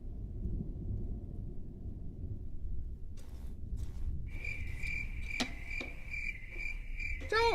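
Crickets chirp in steady, rapid trills over a deep, rumbling low drone, growing denser and more insistent in the second half, with no voices.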